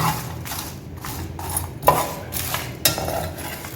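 A spoon scrapes and clinks against a pan while garam masala spices are stirred and roasted, giving irregular metallic scraping with a few sharper knocks, close and alone.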